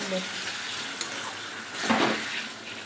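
Potatoes and onion sizzle and fry in a pan with a steady hiss, while a brief stirring scrape swells partway through.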